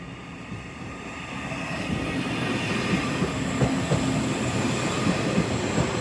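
A Class 331 electric multiple unit approaches the Dock Hills level crossing near Doncaster, about to stop. Its steady rumble and wheel noise build slightly and hold loud and close throughout, with no talking.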